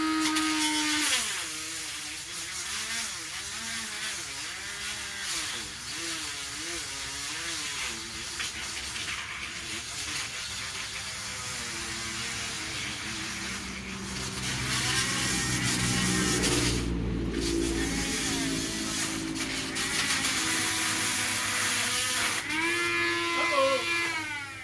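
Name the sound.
Dremel saw cutting PVC pipe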